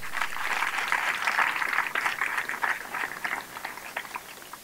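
Sustained audience applause at an investiture ceremony, a dense steady patter of many hands clapping throughout, fairly even and moderately loud with no voices over it.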